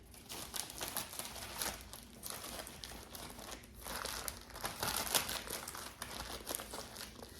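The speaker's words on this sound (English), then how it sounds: "Sorry about the crinkling." A paper knitting pattern sheet is crinkled and crumpled up close as it is folded and tucked away, a continuous papery rustle with irregular louder crackles.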